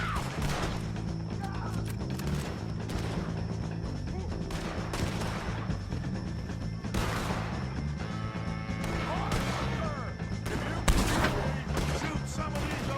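Gunfire in the Red Dead Redemption 2 video game during a shootout with O'Driscoll gang members, with repeated sharp shots and crashes scattered across a dense, continuous background of game music and noise.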